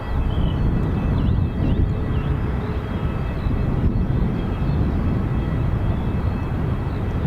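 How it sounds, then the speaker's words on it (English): A British Airways Airbus A319 jet at Dublin Airport rumbles steadily at moderate distance, a broad continuous engine roar with faint whistling tones and light wind buffeting. "So, British Airways A319,"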